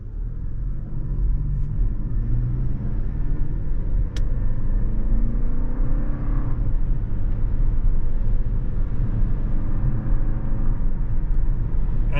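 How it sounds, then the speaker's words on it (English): A 2024 Toyota Crown Platinum Hybrid Max in Sport Plus mode pulls away under gentle throttle, with a steady low cabin rumble of engine and road noise that rises slightly as it gains speed. "Now it's a new engine, so we'll feather the gas in."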